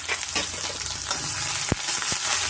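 Green chilies, ginger and dals sizzle in hot oil over a medium flame for upma, a steady close frying hiss broken by a couple of sharp spatula scrapes as they are stirred.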